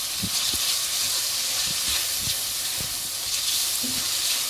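Chicken frying in a pan for chow mein gives a loud, steady sizzling hiss close up, with a few soft low clunks of stirring and no talking.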